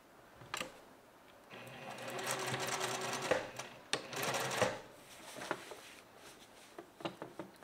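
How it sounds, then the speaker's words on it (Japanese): A sewing machine stitches fabric turned at a right angle, running in short bursts of rapid mechanical chatter with clicks and pauses between, close and fairly quiet. "これも先ほどと同じように直角にしながら縫います"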